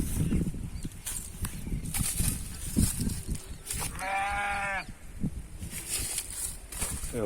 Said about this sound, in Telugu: ఒకటి గొర్రెలు తిరుగుతున్నాయి.